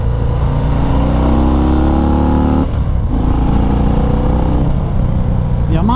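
Harley-Davidson FXDR 114 motorcycle engine while riding: a loud, close throbbing V-twin note rising in pitch through the gears, with a brief dip before it pulls again.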